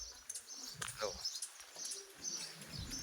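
House sparrows chirp in quick, high bursts at close range around a water bowl, scattered through the moment over a quiet background.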